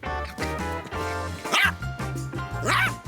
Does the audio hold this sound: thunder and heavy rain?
no